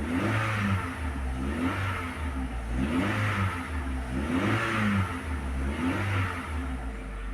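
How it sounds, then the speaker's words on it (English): A car engine revs repeatedly, rising and falling in steady surges about once a second, heard up close with no talking. "Just give it a few revs."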